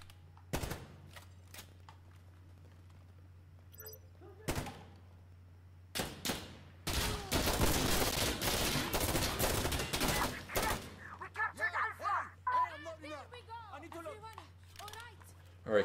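Gunfire in the Xbox version of Insurgency Sandstorm: scattered single shots give way to a loud, sustained burst of shooting, then sporadic reports, while people talk throughout.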